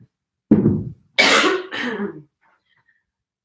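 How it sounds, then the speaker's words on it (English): A person coughs in two or three harsh, close bursts with short gaps between them, loud and clear in a quiet room during a home arm workout. "Sorry for coughing."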